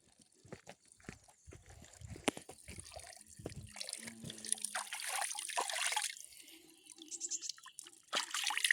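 Hands are washed under a stream of drinking water at an outdoor tap in a forest, with splashing and trickling close by, broken by brief pauses and faint background sounds.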